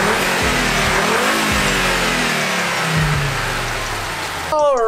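An Audi TT RS with its stock intake revs up hard and drops back several times, loud and close up, with a sharp transient at the very end.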